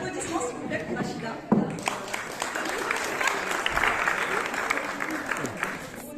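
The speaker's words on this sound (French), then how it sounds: "Des applaudissements s'il vous plaît pour Rachida." Guests applauding at a charity gala dinner, a sustained, moderately distant burst of clapping from a crowd that swells in the middle, with some voices mixed in.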